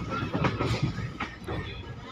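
A train on the Asansol to Malda run rolls into Andal Junction station without stopping, giving a steady, fairly loud rumble of wheels and carriages with faint clatter throughout.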